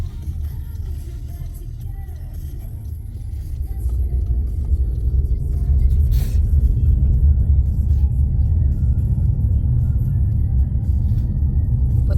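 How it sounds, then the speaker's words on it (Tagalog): A car's engine runs while driving, a loud, steady low rumble of road and engine noise that builds slightly after a few seconds and then holds constant, with no one talking. "naandar na ang sasakyan"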